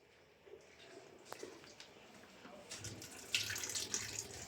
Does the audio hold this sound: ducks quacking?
no